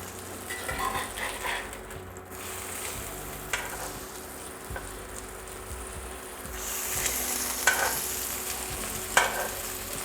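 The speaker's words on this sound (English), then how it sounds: "you wanna cook them till they're brown on both sides" A hamburger patty frying in a pan for a hamburger steak, a quiet continuous sizzle with occasional scraping and stirring clicks, the hiss growing stronger over the last few seconds.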